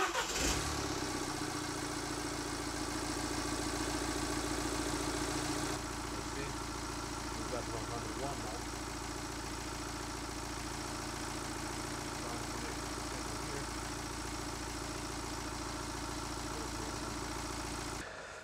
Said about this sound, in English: I'm gonna start the engine and see what values we're reading